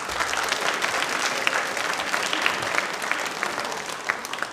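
Loud, dense applause from a large audience at a televised question-and-answer programme marking Dr. B. R. Ambedkar's birth anniversary, a steady roar of many hands clapping throughout with no talk.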